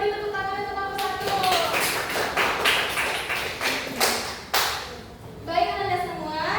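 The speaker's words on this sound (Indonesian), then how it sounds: "Sekali lagi kita beri tepuk tangan untuk kelompok 1." Classroom applause for a student group, a dense burst of many hands clapping close by that swells, dips and trails off near the end, with children's voices faintly underneath.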